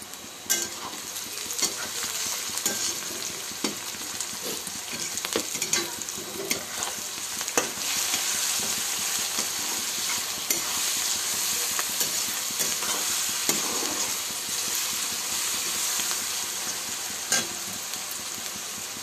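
Green chillies and onion fry in a pan for chicken curry, a steady broadband sizzle running the whole time with occasional stirring scrapes and clicks, close and fairly loud, no voices.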